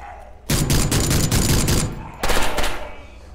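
Sustained automatic gunfire sprays in SCP Pandemic, a dense, loud burst lasting over a second, a brief pause, then another close volley.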